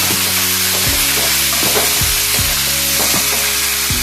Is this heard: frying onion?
yes